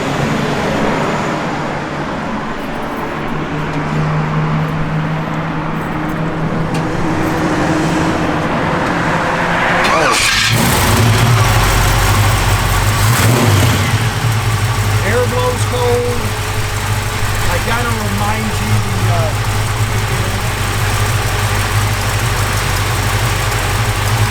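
A 1956 Ford F100 pickup engine cranks and catches partway through, then idles and revs loudly nearby, rumbling deep and rough under intermittent voices.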